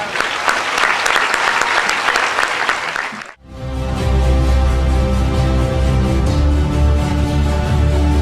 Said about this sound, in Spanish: los aplausos que te dieron a ti